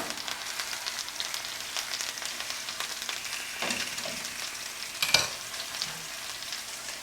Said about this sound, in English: Now I'll turn my steak over.